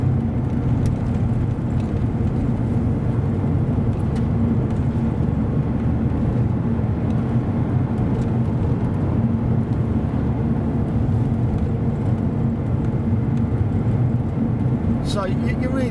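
A Vauxhall Zafira rolls along a country road, its steady low engine drone and tyre rumble constant and close from inside the cabin, with a faint clicking near the end.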